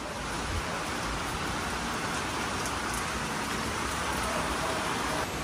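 Heavy rain pours down in a dense, constant hiss, loud and unbroken from start to finish, with no voices heard.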